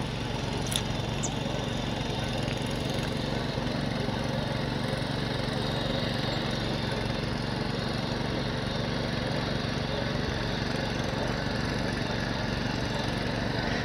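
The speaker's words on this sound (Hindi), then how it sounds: "हल से ज़्यादा चाचा को ट्रैक्टर में मज़ा आ रहा है जुताई करने में" A tractor ploughing a hill-farm field near Munsiyari in Uttarakhand, its steady mid-low engine drone running continuously and fairly close, with no talk.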